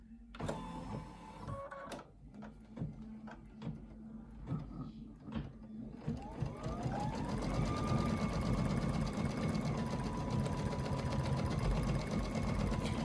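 A Dream embroidery machine stitches a fabric panel, starting with scattered clicks and short motor bursts, then settling into a loud, steady mechanical whir with a rapid needle rhythm. It is close up and has no talking over it.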